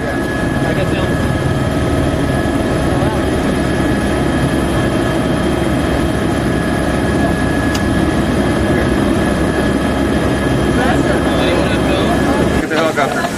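Helicopter engine and rotor droning steadily from inside the cabin of a float-equipped helicopter, loud and continuous throughout, with a brief clatter at the end.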